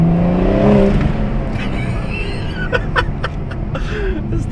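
Ford Mustang racing, its engine accelerating and downshifting as a steady roar with shifting pitch, while people talk and chuckle over it inside the car.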